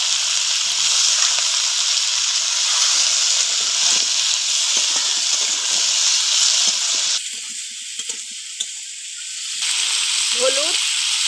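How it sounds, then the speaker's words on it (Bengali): Tomato, potato and carrot go into spices frying for a katla fish curry, giving a loud, close, hissing sizzle that shifts and thins partway through as the pan settles. "এবার সবজিগুলো দিয়ে দেবো। টমেটো, আলু আর গাজর।"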